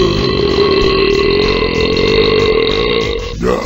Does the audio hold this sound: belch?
yes